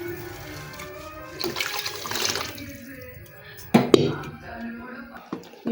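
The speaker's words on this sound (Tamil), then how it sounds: "நான் புளி கரைச்சி வச்ச தண்ணி ஊற்றுறேங்க" Tamarind-soaked water poured into a simmering curry, a soft splashing, trickling pour in short bursts, with a few clinks and knocks near the end.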